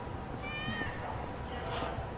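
A cat meows in the video game Yakuza: Like a Dragon, a single drawn-out, rising-and-falling meow near the start, fairly faint over a steady background hum, with no speech.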